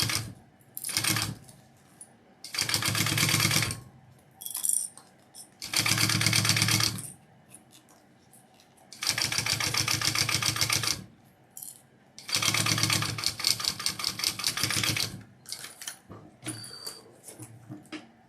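A sewing machine top stitching runs in several bursts of rapid mechanical whirring and clatter, separated by short pauses with small clicks and handling noises.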